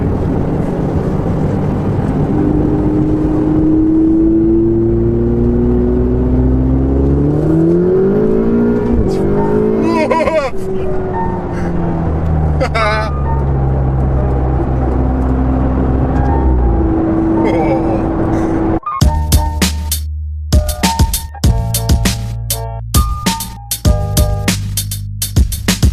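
A Ferrari 488 GTB's turbocharged engine pulls hard while driving, its drone rising steadily in pitch through long accelerations, then breaks into rapid, loud gear-shift bursts near the end, with a voice speaking over the cabin noise.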